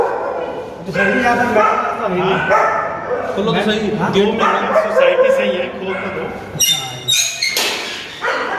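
Dogs kept in a flat bark and yelp repeatedly in a housing society while someone talks over them, the barking dense and fairly close, with sharper yips near the end.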